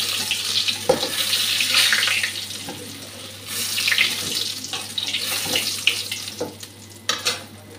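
Boiled green jackfruit pieces being rinsed under a running kitchen tap, the steady splash of water into a sink rising and falling with occasional louder clatters as the pieces are handled, no talking.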